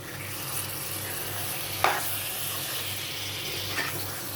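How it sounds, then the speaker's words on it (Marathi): Cleaned prawns are stirred into a simmering Malvani curry in a pot, with a steady sizzling hiss and two brief scraping stirs. "ही जी साफ करून घेतलेली कोळंबी आहे ती घालून घेणार आहोत आणि हे सगळं व्यवस्थित मिक्स करायचं आहे"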